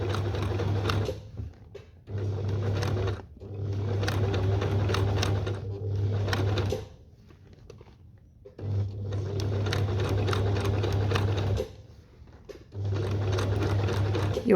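A sewing machine stitches appliqué slowly around a fabric flower, humming in long steady runs broken by short pauses while the work is turned, close and prominent.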